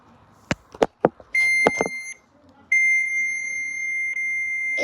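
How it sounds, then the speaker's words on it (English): Beeping tones from a phone call to the so-called Backrooms number play loudly on speaker: a few short clicks, then sustained electronic beeps in long steady stretches separated by a brief gap. "It's making beeping noises."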